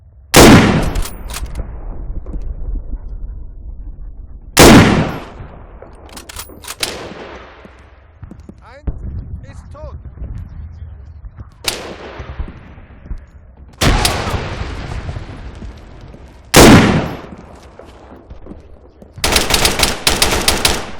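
Gunfire in the Arma 3 IFA3 WarMod game, shooting at an enemy: loud, close bursts of shots, each followed by a long echoing tail, repeating several times and ending in a rapid automatic volley.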